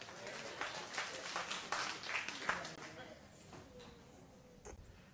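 A church congregation claps together in a scattered burst that swells then tapers off, with a voice briefly audible over the applause.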